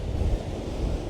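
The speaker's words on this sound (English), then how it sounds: "I hope you can hear me over this awful wind" Strong wind gusts roaring across a high exposed spot above the sea, with surf churning beneath, a dense continuous rumble alone throughout.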